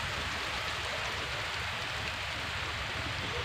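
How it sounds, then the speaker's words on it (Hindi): Rain falling over farm fields in India, a steady, even hiss of drops filling the whole stretch without pause or voices. "देखिए बारिश शुरू होगी फिर से,"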